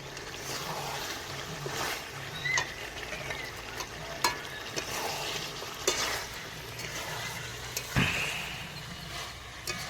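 Potatoes go into a hot kadai of chili-paste-spiced chicken, with a low steady sizzle broken by scattered scraping and clattering stirs of a spatula against the pan.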